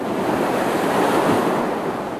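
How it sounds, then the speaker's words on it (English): Atlantic Ocean surf pounds the coast of Georgia as Hurricane Dorian approaches, producing a loud, steady roar of crashing waves mixed with gusting wind buffeting the microphone. "The Atlantic Ocean howling as Dorian nears."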